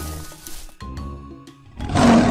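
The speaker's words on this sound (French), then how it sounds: "Le son est un lion" A lion roars in a children's animal-sound game, a loud swelling growl that follows a broken run of animal calls and fills the final second.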